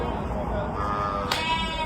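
Sheep bleat over a steady background hum, with what may be voices mixed in, and a sharp noise burst near the end.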